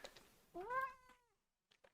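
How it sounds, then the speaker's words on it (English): A cat gives one clear, close meow with a rising then falling pitch, followed by a couple of faint soft sounds, heard alone without talk. "Cat is in my lap."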